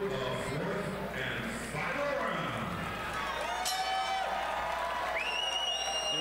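Crowd at a women's boxing match cheering and applauding, a continuous roar with whistles rising through it, while a commentator talks over the noise.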